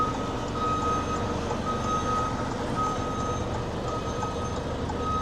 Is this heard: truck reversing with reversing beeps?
yes